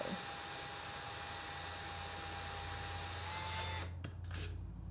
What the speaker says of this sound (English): make sure if you're wanting to use bigger holes, not to use too big of a drill bit